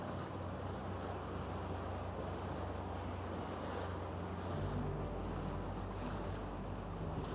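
A historic sailing ship underway at sea beyond the IJsselmeer, with a steady, loud wash of water and wind noise buffeting the microphone throughout and a deep low rumble that shifts partway through.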